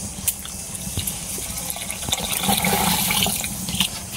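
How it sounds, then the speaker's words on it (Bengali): Broth pours into a pan of fish curry with a rushing, gurgling splash that swells toward the end, close by and clear, with no talking over it. "পরিমাণ মতো একটু ঝোল দিয়ে দিতেছি"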